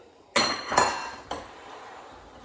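Pineapple juice being stirred into a sweet and sour sauce, heard as three distinct metallic clinks of a utensil against the pan, each fading quickly into near quiet, close and without speech.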